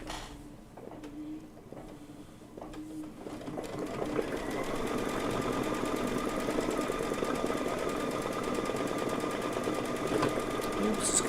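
Sewing machine stitching down a flower quilt block: after a few soft bumps and a brief pause, the motor starts and runs in a steady, rapid needle clatter that carries on close and even until the end.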